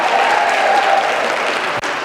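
A conference audience applauds, dense and sustained clapping from a large crowd filling the room at steady loudness, with a brief dip near the end.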